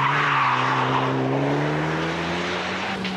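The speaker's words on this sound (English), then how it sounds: "Mitsubishi Lancer Evolution" Mitsubishi Lancer Evolution rally car skidding on a track, with a loud, sustained engine drone and rising tire squeal over a few seconds.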